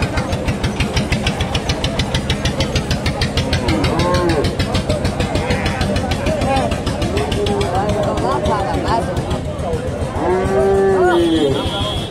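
Sahiwal cross cows and bulls mooing at a busy cattle market, several drawn-out lows rising over a constant rhythmic engine thrum and crowd chatter.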